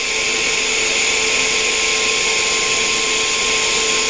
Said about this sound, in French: on fait sa soudure,